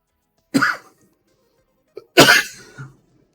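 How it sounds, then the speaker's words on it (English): Two separate coughs, a short one followed by a louder, harsher one after a pause, close to the microphone in otherwise quiet surroundings. "I'm starting to cough again"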